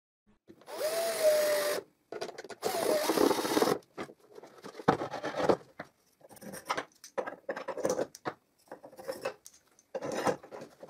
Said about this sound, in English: So I screw it.